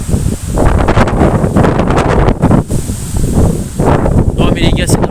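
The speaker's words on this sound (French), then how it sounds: "Rafale à 90." Strong gusts of storm wind roar continuously across the microphone during Storm Benjamin, loud and buffeting with surging peaks, while excited voices exclaim over it.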